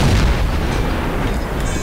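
A tank cannon fires in World of Tanks from an M18 Hellcat, one loud booming shot that rolls off into a decaying rumble, with no voice over it.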